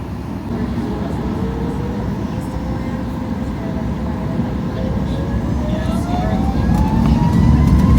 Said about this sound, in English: Engines, and off we go.